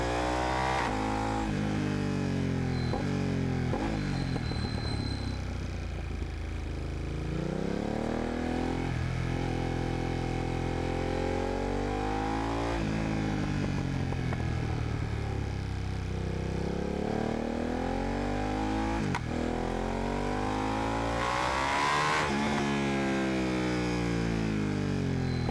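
A car engine revs hard and close, rising and falling in pitch as the clutch is worked through several gear changes, with a loud sustained roar between shifts.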